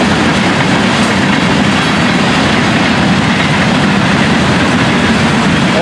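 A loud train rushes past close by, a dense continuous roar of wheels and rail clatter throughout.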